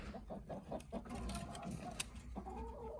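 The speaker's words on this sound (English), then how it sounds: "Darn chickens." Chickens clucking and squawking nearby in short irregular bursts, over a busy rustling background.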